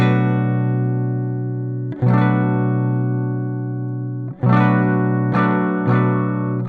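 Electric guitar with a 4.7 nanofarad capacitor tone mod, ringing sustained chords that decay slowly, restruck several times with sharp attacks, clean and close with a slight shimmer.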